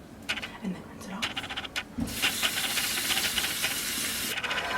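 Shower water running in a steamy bathroom, a steady broad hiss that swells louder partway through after some brief clattering, with a voice faintly audible at times.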